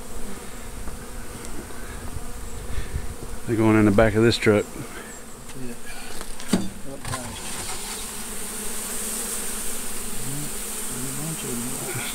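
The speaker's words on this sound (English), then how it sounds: "I moved the truck the bees were in, which was red, and they don't know where I went, so they're clustering on the next red vehicle." Honeybees swarm and cluster around a red truck at a state park, a constant, dense buzz that persists throughout, with someone speaking briefly over it partway through.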